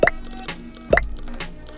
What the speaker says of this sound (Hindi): और मैं इन दोनों स्टील बॉल्स को कोलाइड करूं तो आप इस कोलिजन का साउंड क्लियरली सुन सकते हैं